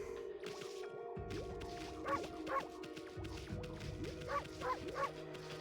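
A dog barks in short, yipping bursts in Okami HD: two quick yelps, then three more near the end, set over steady game music and ambience.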